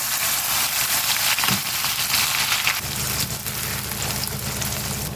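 Sliced onions spit and sizzle in hot oil for a prawn thokku, a steady dense crackle that thickens partway through with a denser bubbling fry, no voices.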